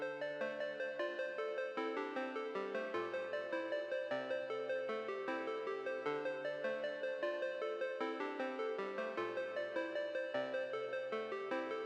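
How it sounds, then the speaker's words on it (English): Synth pluck from a Serum preset with its filter removed, playing a steady melodic pattern of bright, rapid notes that ring over a continuous harmonic bed, quiet and alone with no talking. "I took off the filter and made it sound like this, which gave it like a nice little synthy plucky feel"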